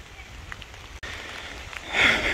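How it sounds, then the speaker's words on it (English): Rain falls steadily on a surface near a hunting spot in deer season, a continuous close patter that swells louder toward the end. "It's raining."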